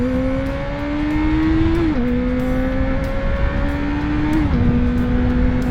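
A 2016 Honda CB650F motorcycle, restricted to 47.5 hp for an A2 licence, revs its engine up and down in two smooth climbing sweeps, each dropping back briefly, loud and close with no talk.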